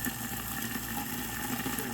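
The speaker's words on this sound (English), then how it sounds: "just a little bit of water on top to create a little more steam" Water splashed into a hot pan cooking a sirloin New York strip steak gives off a steady, close hissing sizzle of steam with no break and no talking.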